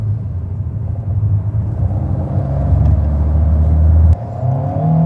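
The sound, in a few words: Alpine A110 GT car accelerating onto motorway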